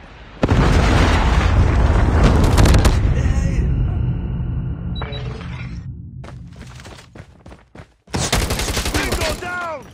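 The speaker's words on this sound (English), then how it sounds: "Predator missile inbound." Predator missile strikes hit in a Call of Duty Mobile ranked Frontline match, with loud shattering blasts and crackling debris that fade into rumble, then a second burst of explosions and gunfire near the end.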